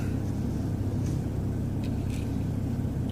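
A car engine with a sporty tone hums and rumbles steadily while driving, a continuous moderate road drone with no talking.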